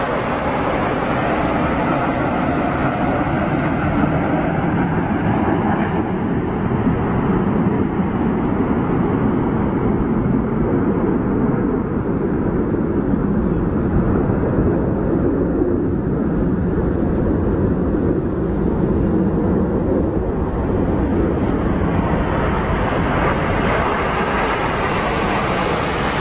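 A formation of Eurofighter Typhoon jets passes overhead, a loud, sustained roar that fills the whole stretch with broadband jet noise, slowly shifting in tone as the aircraft fly over and away.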